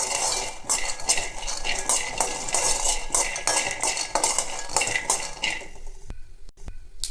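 Peanuts dry-roasting in a pan for chutney give a steady close rattle and scrape of stirring with a utensil against the pan, with repeated clinks, then fall quiet near the end.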